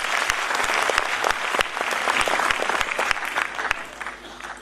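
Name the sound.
audience applause welcoming a lyricist on stage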